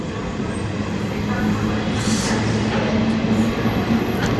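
A train pulls out of Kothavalasa station on the Visakhapatnam to Araku line, a steady rumble of wagons and wheels with faint high squeals.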